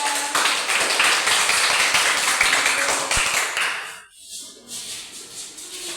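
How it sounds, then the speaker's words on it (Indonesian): Classroom students clap for a presenting group, brisk, close applause that carries on for about four seconds, then stops abruptly, leaving a quiet room with faint shuffling. "Tepuk tangan untuk kelompok 2"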